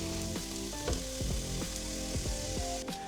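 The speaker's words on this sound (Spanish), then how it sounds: "colocamos un chorrito de aceite de oliva y salteamos medio diente de ajo bien picadito" Finely chopped garlic sautés in a splash of olive oil in a frying pan, a soft, quiet sizzle with several scraping stirring strokes spread across it.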